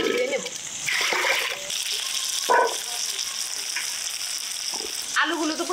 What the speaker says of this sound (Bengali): আলুগুলো তো পরিষ্কার করে ধুয়ে নিলাম